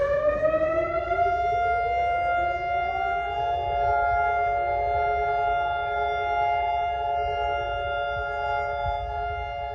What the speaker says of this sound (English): Sirens went off throughout Israel